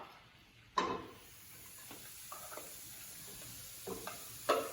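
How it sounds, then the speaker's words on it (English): Chopped onion and mushroom sauté in a pan with a soft, quiet sizzle, broken by a few sharp clinks and scraping stirs from a utensil against the pan. "I'm going to let this saute for a little while until it becomes soft and a little translucent"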